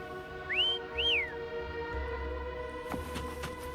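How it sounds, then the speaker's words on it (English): A game character in Wuthering Waves whistles twice to call a companion, two rising-and-falling tones over a steady game soundscape, followed by a brief sharp rustle near the end. "Try whistling."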